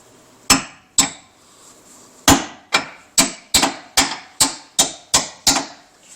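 A hammer strikes metal on the front crossmember of a 1956 Ford Fairlane in a garage, about a dozen sharp ringing blows, two spaced, then a steady run of evenly paced hits, close and clear.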